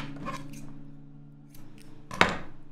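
Scissors snipping crochet yarn: a soft handling rustle at the start, then one sharp close metallic snip near the end, with nothing else heard.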